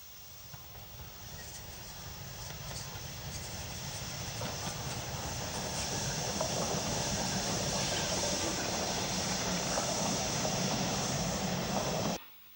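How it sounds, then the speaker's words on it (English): A 7F steam locomotive coasting down a 1 in 60 gradient towards Midford on the Somerset & Dorset line, a steady broad rumble and rolling clatter that builds gradually and holds loud and close before cutting off abruptly. "A 7F coasting down the 1 in 60 towards Midford."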